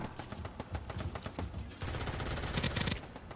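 Rapid gunfire from a turret in the video game Starsiege Deadzone, a dense fusillade of repeated shots that swells louder in the second half and runs continuously without speech.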